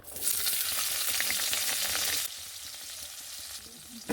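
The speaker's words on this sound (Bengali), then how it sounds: "এবার দিয়ে দেবো শুকনো লঙ্কা আর তেজপাতা আর দেবো পেঁয়াজ কুচোনো" Dried red chillies, bay leaves and chopped onion frying in a pan for a Bengali potol-prawn dish, a loud, steady sizzle that drops to a quieter hiss partway through, with faint clinks of stirring and no talk.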